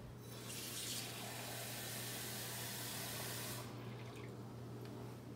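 Tap water rushes out to fill a watering can for gardening, a steady, loud spray that runs for about three seconds before easing to a lighter flow.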